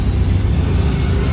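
Slow Cannes traffic with a Lamborghini Urus and a Brabus among the cars produces a loud, close, steady engine and road rumble with no clear pass-by peak.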